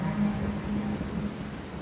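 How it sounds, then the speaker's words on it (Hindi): Steady rain pours through a dramatic film scene, with a low rolling rumble of thunder running underneath the hiss; continuous and fairly full, with no voices. "बारिशें आ गई"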